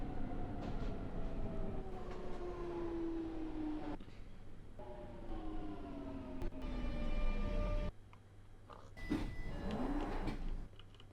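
A Minecraft train rolls steadily through an autumn biome, its long rising and falling tonal whines and rumbling wheels filling the clip, broken by brief pauses and a sharper squealing passage near the end.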